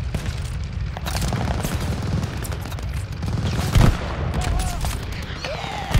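Gunfire in the WWII shooter Call of Duty Vanguard, with a dense, steady crackle of shots and booms through the whole stretch and a heavier blast near the middle, loud and close, with battle noise throughout.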